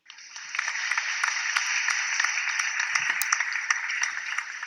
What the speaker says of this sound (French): vous devez entendre les applaudissements